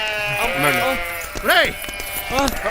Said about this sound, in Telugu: గొర్రెలు